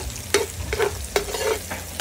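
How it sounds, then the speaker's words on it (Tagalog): Garlic and onion being sautéed in a pan, a close sizzle broken by four sharp spatula scrapes at an even pace, loud and busy, no voices. "nagbisa na po tayo ng bawang sibuyas"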